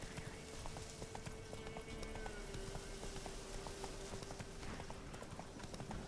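Roach, a horse in The Witcher 3, gallops with a fast, steady clip-clop of hooves that runs throughout, close and fairly quiet.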